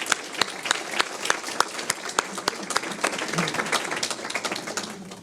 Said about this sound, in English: let's give a round of applause to them in case they're on TV